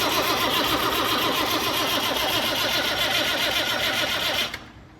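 Massey Ferguson 1250 tractor engine cranking over, a loud continuous churning whir held for several seconds before cutting off abruptly near the end.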